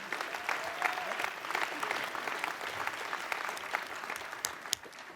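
Legislators applaud a class of 27 new House members at an oath-taking ceremony, a steady, dense round of clapping from a large room that holds even for several seconds.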